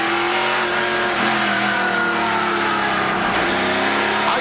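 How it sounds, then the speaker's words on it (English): NASCAR Pinty's Series stock car at the 2018 Pinty's Grand Prix of Toronto street race, engine roaring loud and steady as it accelerates past, with other cars droning behind it and no talk. "Lacroix shooting number 74 will move past the Kubota number three of Cole Powell, and that's a battle for 13th"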